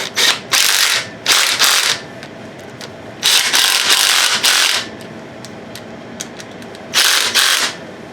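A Ryobi power tool that may be failing tightens engine bolts on a 1999 Grand Am 2.4 Quad 4 during an engine rebuild, firing in several separate loud rattling bursts of a second or so each, close up with pauses between.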